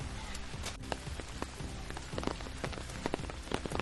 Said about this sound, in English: it just started torrentially downpouring